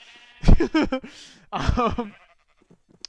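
Sheep in the Minecraft video game bleat twice in quick, wavering calls, loud and close, followed by brief quiet.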